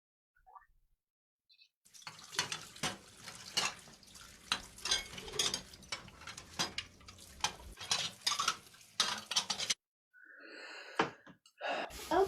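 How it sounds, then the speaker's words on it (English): Dishes and cutlery clatter and clink in a household kitchen, a steady run of sharp, irregular knocks and scrapes for about eight seconds before a pause and a few brief, higher-pitched clinks. "time to do the dishes"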